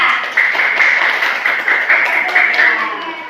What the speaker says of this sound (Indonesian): Ya, tepuk tangan dulu buat kelompok 3.